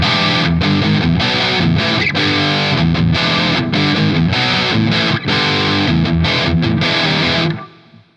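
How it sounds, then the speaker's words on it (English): High-gain electric guitar through a Laney Ironheart Loud Pedal, a loud, close, continuous distorted riff of chugging chords and short breaks that ends in a decaying ring. "I don't think you'll get that level of gain with just the amp"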